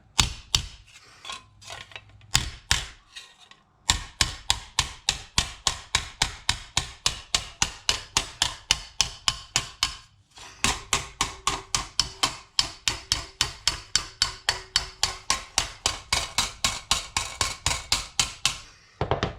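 Repeated hammer blows flattening small metal pieces on a compact steel anvil, sharp metallic strikes in a steady rapid rhythm, close and loud, with two brief pauses between bursts.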